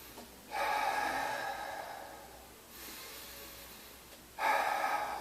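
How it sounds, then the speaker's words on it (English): Slow, deep breaths during an abdominal breathing exercise with rib cage and pelvis held together, heard as soft, close airy hisses: one long inhale, a quieter pause, then another breath beginning. "we're just going to hang out and breathe."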